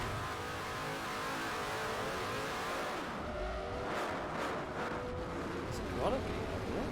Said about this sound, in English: the race car GT sounds really good